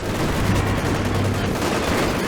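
A Panzer IV command tank fires in a WWII strategy video game battle, part of a loud, dense, unbroken roar of gunfire and explosions that lasts the whole time.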